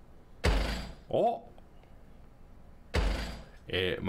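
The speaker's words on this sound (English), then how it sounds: "It might be the door!" Heavy door banging in the horror video game Dementia, two pairs of loud, close thuds with short rattling tails, the pairs spaced a few seconds apart.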